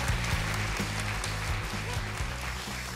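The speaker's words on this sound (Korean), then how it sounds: "박수 부탁드립니다" Audience applause at a televised Korean crowdfunding broadcast, a steady wash of clapping from a studio crowd that stays at an even level throughout.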